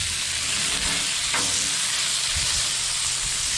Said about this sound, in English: Move this over to the cool side and then put our fries down.